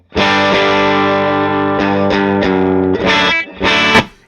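An electric guitar played through a pedal board strums bright, distorted chords with sustained ringing, a few rhythmic restrikes and short gaps near the end, loud and alone.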